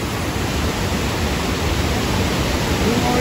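Sogi Falls in Kagoshima roars with a loud, dense, unbroken rush of falling water heard up close, with no voices.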